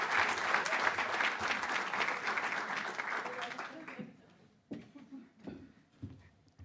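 A corporate conference audience applauds loudly and steadily for about four seconds, then the clapping fades to a few scattered claps and quiet room sounds.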